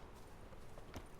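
A few soft hoofbeats from a horse in The Witcher 3, faint and close together over a steady background hum, with one slightly firmer clop near the end.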